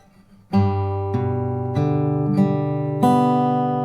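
Plucked acoustic guitar notes from "Amazing Grace" ring out one after another in a steady fingerpicked pattern, sustained tones overlapping, close and clear with no talking.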